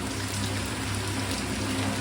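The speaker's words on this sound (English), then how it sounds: "And the rain's just getting heavier again." Heavy rain falls steadily on an outdoor building site where a pool is under construction, a dense even hiss with no gaps and no voices.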